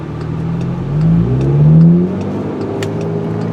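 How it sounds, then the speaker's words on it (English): A VW GTI accelerates onto a motorway at dusk, its engine note climbing and swelling louder in the middle before settling into a steady cruising drone. "I'm gonna take it for another rip down the highway"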